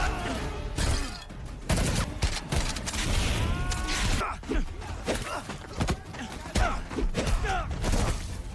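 In a chaotic village battle in an action movie, rapid gunfire and sharp impacts crackle in dense bursts along with booming hits, while voices grunt and shout throughout the scene.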